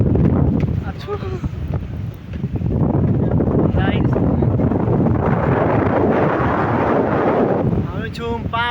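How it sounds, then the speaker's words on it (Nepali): Strong wind blows across a fourth-floor rooftop in Bandipur, Nepal, pounding the microphone with loud, sustained roaring gusts while people speak intermittently beneath it. "मोबाइल सबै हल्लाइदिन्छ यहाँ हावाले गर्दा यस्तो हावा चलिरहेछ"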